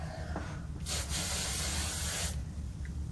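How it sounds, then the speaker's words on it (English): Hairspray is sprayed into long, naturally straight hair in two close, steady hissing bursts, the second one longer, set against a quiet room. "I'm just gonna spray it in my hair"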